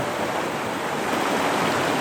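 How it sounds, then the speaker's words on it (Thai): Swift river water rushing during inner-tube rafting at Wang Takhrai, a continuous, close, even roar of flowing water with no talk. "น้ำไหลเชี่ยว วนวนวนวน"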